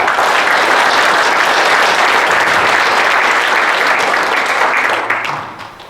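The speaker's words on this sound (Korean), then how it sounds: "안보포럼의 설립자 분들께 뜨거운 박수로 감사와 존경의 마음을 표해주시면 감사하겠습니다" An audience at an army ROTC officers' security forum general assembly applauds the forum's founders: dense, loud, sustained clapping from a large crowd that holds steady, then tapers off in the final second.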